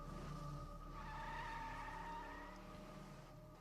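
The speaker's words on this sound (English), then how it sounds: "put the car in drive and punched the gas." A car punched into drive and accelerating hard away with tires skidding, a sustained engine roar and squealing rubber rising then fading slightly over a few seconds, heard alone.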